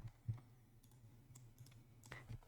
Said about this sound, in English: I will just type in the name of the channel